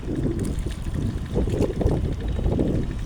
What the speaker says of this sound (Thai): เรือเหล็กกำลังมาครับ